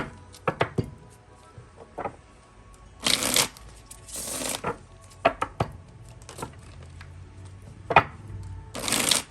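Tarot cards are shuffled in quick papery riffles and bursts, broken by soft taps and slaps as cards are laid out one by one, close and fairly quiet.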